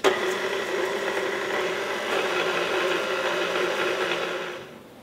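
An electric stand mixer whirs steadily as it stirs dry bread-dough ingredients (flour, instant yeast, salt and sugar) for a cinnamon raisin loaf, a constant buzzing motor hum that winds down at the end.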